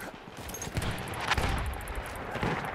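An enemy machine gun firing in the Battlefield 1 video game, a sustained rattle of rapid shots amid broader battle noise, moderately loud and continuous across the moment.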